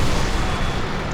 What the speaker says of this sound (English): he takes a pretty nasty hit from our artillery